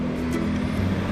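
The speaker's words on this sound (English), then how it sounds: "there's a fire truck." A fire truck on a city street, a steady loud engine rumble with a sustained drone throughout, close by, with no talk over it.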